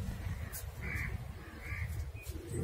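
Crows caw outdoors during a quiet curfew day, several short calls spaced apart at a moderate distance over a low background rumble, with no one speaking.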